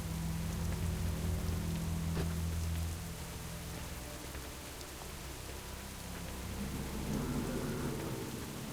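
Rain ambience in a rainy World of Warcraft zone, Gilneas near Duskhaven, with a steady wash of falling rain and low rumbling thunder throughout, even and enveloping.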